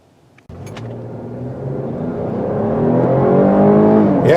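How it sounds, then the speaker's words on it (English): A 2020 Cadillac XT6 SUV with a 310-horsepower engine launching from a standstill to 60 mph, the engine note kicking in abruptly and rising steadily in pitch and loudness as it pulls hard, heard from inside the cabin. "you're not going to light up the tires doing a 0 to 60 time, but let's see what it does"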